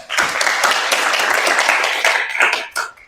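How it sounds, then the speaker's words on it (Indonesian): A classroom of students gives a classmate a round of applause: steady, dense clapping for about three seconds, tapering off with a few scattered final claps. "Tepuk tangan untuk kawan kita"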